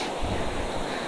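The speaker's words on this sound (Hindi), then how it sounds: "क्या ठंडी हवा और बारिश के छिट्टे आ रहे हैं" A steady, loud rush of cold wind with spraying rain near a hidden waterfall in Dehradun, forming a dense, continuous roar with no voices.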